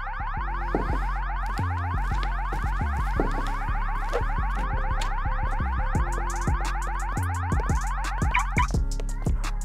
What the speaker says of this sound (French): Pourquoi l'alarme s'est-elle déclenchée comme ça?